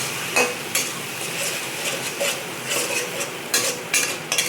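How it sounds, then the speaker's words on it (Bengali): Onions sautéed in a pan for a Bengali prawn malai curry, with repeated spatula scrapes and taps over a steady, fairly loud sizzle. "এই পেঁয়াজটাকে খুব সুন্দর করে কষতে হবে।"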